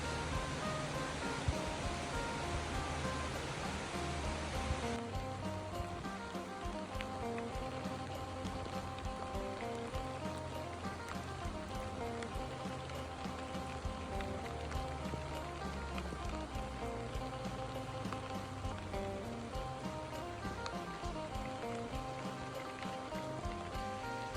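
Steady rain falls all day in a wet Thai street scene, a continuous hiss of drops on surfaces with traffic passing faintly underneath, the car sounds soft and mostly buried beneath the rain.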